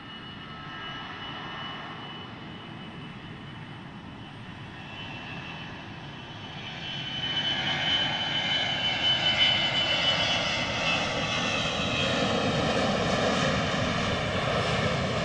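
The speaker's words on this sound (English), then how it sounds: "Looks like we get a Primera 767 getting ready to depart here from Portland." A Primera 767 jet airliner departs Portland International Airport, its engines giving a broad, steady roar that swells and grows louder midway and stays heavy and sustained from a middle distance, with no talk over it.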